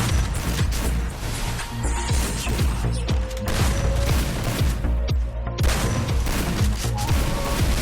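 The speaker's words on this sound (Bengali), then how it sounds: "গুলি লাগে" Rapid gunfire from a shooting video game rings out in dense, repeated bursts, loud and close, with brief gaps between volleys and no talk.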